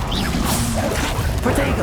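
A fire spell blasts in Hogwarts Legacy combat, short loud whooshing, crashing bursts over a noisy fight with voices in the background.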